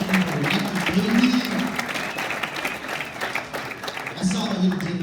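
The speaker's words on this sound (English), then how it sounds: "Let's clap for that." An audience applauds in a steady, loud clatter of many hands, while someone talks over the clapping near the start and again near the end.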